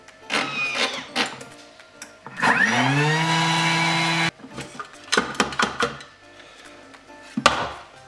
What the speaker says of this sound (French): je vais mixer le tout 10 secondes à vitesse 10